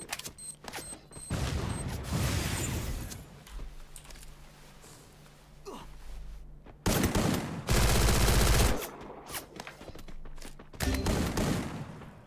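Bursts of automatic gunfire crackle through a Free Fire battle royale match, loud rapid volleys with a heavy sustained stretch in the middle, broken by short pauses and mechanical clanks.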